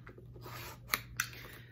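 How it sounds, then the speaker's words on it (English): Knife or blade rasping and slicing through the tape of a cardboard subscription box, a short scraping stroke followed by two sharp clicks, close and without talking. "Let's cut this bad boy open and see what we got."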